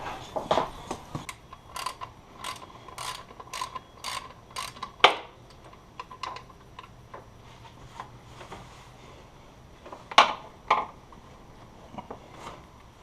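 A ratchet tightens pulleys on an SR20 engine in a Nissan S15, close sharp clicking in short bursts, a quick run early and scattered strokes and clunks later, with quiet gaps between.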